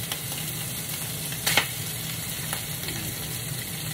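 Onions sauté briefly in a pan before going onto a pizza. A steady close sizzle fills the clip, with one sharp clatter of a utensil near the middle and faint stirring scrapes.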